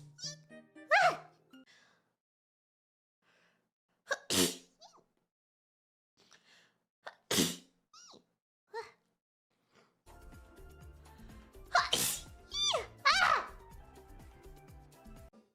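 Several sharp sneezes from one person burst out at intervals, each a loud explosive release, the last two arriving over a busy background of electronic music and noise.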